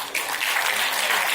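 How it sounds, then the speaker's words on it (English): An audience at an alumni award tribute breaks into warm applause, a dense, close clapping that swells after a brief quiet start and holds steady. "Let us pay our respectable tribute to this extraordinary son of our alma mater with a"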